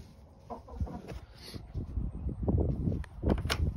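Chickens in a chicken tractor cluck and murmur close by, a steady busy flock with a few sharper calls, no talking.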